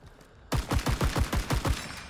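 An M1 Garand rifle fires in the video game Rising Storm 2, with about seven sharp, loud shots in a quick, steady rhythm after a brief quiet lead-in.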